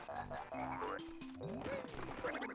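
A little red Flibbit frog enemy from Banjo-Kazooie on Xbox Live Arcade croaks in cartoonish bursts, with sliding, bouncing tones and a few thuds, loud and clear without talk.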